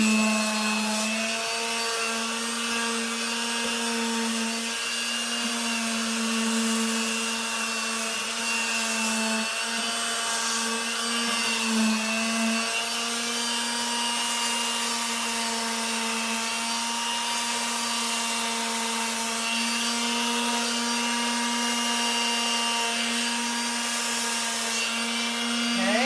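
Steady power sanding of a wooden china cabinet with 80 grit sandpaper, a continuous droning whir with a strong low hum running unbroken and loud for the whole stretch, no talking.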